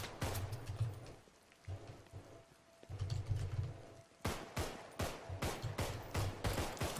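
Gunfire from the zombie shooter game Contagion crackles in rapid bursts and sharp single shots, close and loud, with short pauses between volleys.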